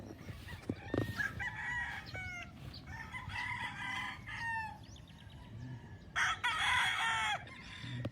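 Roosters crow repeatedly on a large poultry farm in the Philippines, with hens clucking among them; the long crows stand out clearly against steady outdoor noise, one loud and close near the end.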